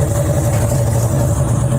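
A car engine idles steadily as the vehicle is driven off to be parked, a continuous low rumble close by with no other sounds.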